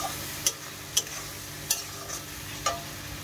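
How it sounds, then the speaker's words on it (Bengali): Spice paste frying in oil for a chicken curry, a soft steady sizzle under regular sharp scrapes and clinks of a spoon stirring against the pan, close and fairly quiet. "দিয়ে ভালো করে কষিয়ে নেব।"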